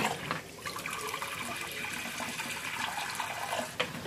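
Water pours steadily into a pot, a continuous close splashing gush that fills the short stretch, for boiling a traditional Chinese cough remedy, with no one speaking.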